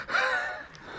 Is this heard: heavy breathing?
yes